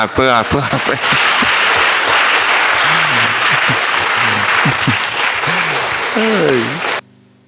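Audience applause at a Catholic formation session on inculturation and evangelisation, steady dense clapping filling the room for about seven seconds with a voice speaking over it, cutting off abruptly near the end.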